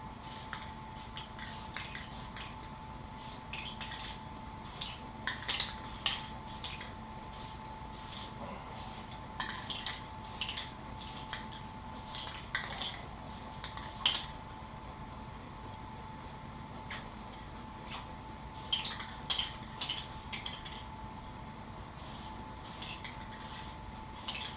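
Short bursts of a spray can laying a light primer coat, hissing in repeated brief passes with pauses between, close and fairly quiet over a steady background hum.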